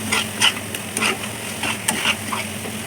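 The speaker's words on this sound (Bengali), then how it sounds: "এবার আমি আজকে ভেজে রাখা চিংড়ি মাছগুলো দিয়ে নিচ্ছি" Pre-fried small shrimp tossed into a pan for a prawn malai curry, with a soft background sizzle and a few brief scraping clatters of the spoon stirring them around.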